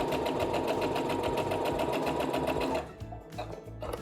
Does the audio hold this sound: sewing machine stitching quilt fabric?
yes